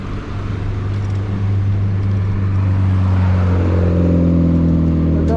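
An electric bike motor speeds up with a steady, loud hum that rises in pitch toward the end, and road noise runs underneath.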